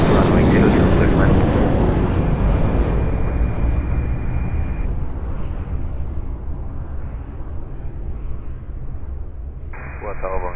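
An airliner landing on runway 02 at Lisbon Airport, a loud, steady jet roar that fades slightly over time, with radio voices talking over it.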